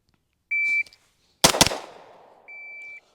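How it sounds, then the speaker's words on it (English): Two rapid pistol shots from a Staccato HD P4 fired close together, loud and sharp with a ringing tail, set between two shrill electronic shot-timer beeps. "So that was 2 shots."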